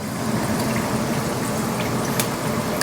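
Banana fritters frying in a pan of hot oil give a steady, even sizzling hiss that holds at an unchanging level throughout, close and moderately loud, with no talking over it.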